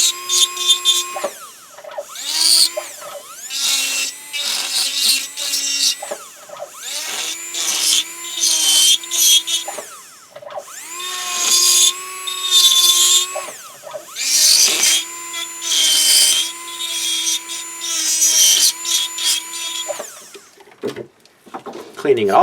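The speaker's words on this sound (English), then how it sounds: "now you can see I've got undercut areas from my undercut burr" A dental undercut burr grinds into denture resin during a chairside All-on-4 conversion, giving a high, whining, tonal drone. The whine rises and falls in repeated bursts with short pauses between them.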